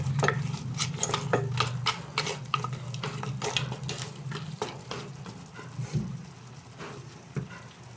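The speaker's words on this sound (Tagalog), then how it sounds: "Hayaan ko lang na humalo siya dyan at maluto." Alimasag crabs cooking in a pan, with repeated scraping and clattering as they are stirred over a soft sizzling bed, close and fairly loud, no talk.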